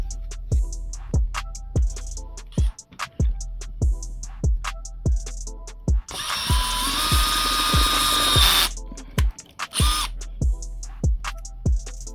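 A power drill whirs in a sustained burst of several seconds, then a short second burst, amid sharp regular clicks and taps.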